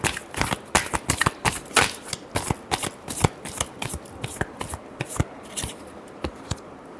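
Tarot cards being shuffled by hand in a quick, steady run of crisp riffling flicks and slaps, close and clear, with no talk.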